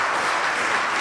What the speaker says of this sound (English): can you stand up and give Andrew a big round of applause